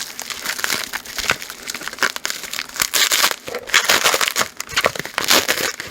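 Packing paper crinkles and crunches loudly up close as it is pulled from a bridal unboxing package, a continuous busy rustle with sharp crackling bursts throughout.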